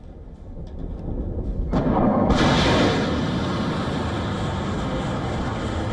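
Explosions in war news footage from the Iranian city of Sanandaj roll in as a loud, sustained low rumble with a sharp blast onset, one after another, distant and booming, with no voices.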